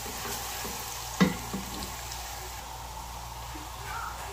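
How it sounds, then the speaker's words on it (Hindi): Onion with ginger garlic paste frying in oil makes a faint, even sizzle, with a couple of soft knocks early on. "मैंने एक मीडियम साइज़ की प्याज ली है, और मैंने इसको जो है ऑयल में थोड़ा सा फ्राई कर लेती हूँ"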